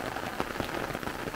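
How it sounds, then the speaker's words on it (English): Light rain falling outdoors on rural land beside a road makes a soft, steady patter, with faint scattered drops tapping over a constant wash of noise. "Today, some rain."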